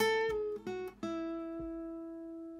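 Guitar lick with a pull-off to a minor note, played as a few quick plucked notes ending on a sustained ringing tone that fades away, close and clear, with no talking.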